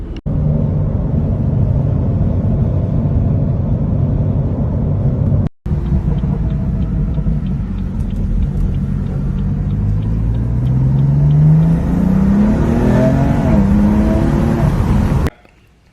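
Steady engine rumble and road noise from inside a moving BMW F80 M3 on Michelin Pilot Sport 4S tires on a highway, with a rising tone as it accelerates, continuous and fairly loud, no talking.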